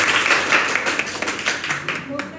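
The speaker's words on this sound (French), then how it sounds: "On applaudit pour ça, c'est magnifique." A crowd at a gathering on peace in Haiti breaks into clapping, a dense burst that thins toward the end as a voice rises over it.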